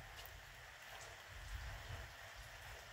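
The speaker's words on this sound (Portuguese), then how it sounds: "Muita chuva." Heavy rain falls on farmland in Paraíba, a faint, steady hiss of drops on the ground and surfaces with soft low rumbling beneath.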